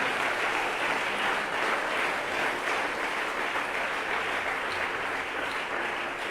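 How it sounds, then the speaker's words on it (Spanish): A church congregation applauds during a sermon, a dense, steady wash of clapping from many people that holds at an even level for several seconds with no talk over it. "Denle ese aplauso a Dios porque Él está aquí."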